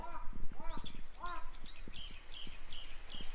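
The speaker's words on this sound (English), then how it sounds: "I just had a crow, and it's literally right above me right now, and it sounds just like a human." A crow calls from a tree directly overhead in a forest, giving a series of close, repeated, rasping and oddly human-like calls, while a person talks nearby.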